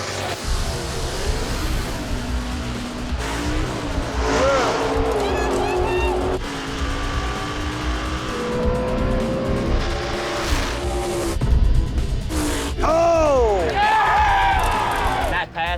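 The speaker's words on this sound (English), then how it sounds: "In this lane, Will Fox in a 1992 Mustang" A 1992 Ford Mustang runs a drag race at Maple Grove Raceway, its loud engine roaring and droning steadily throughout with brief tire squeal, while an announcer talks over it.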